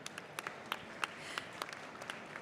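An audience at a startup competition finals event claps briefly and lightly, scattered individual claps rising over a hushed room rather than a full roar.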